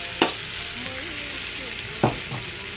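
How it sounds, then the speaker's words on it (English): Potatoes frying in a pan for a Nepali potato curry, a steady broadband sizzle with two sharp utensil scrapes and clatters against the pan; no talking. "Now I'm going to go ahead and add the potatoes."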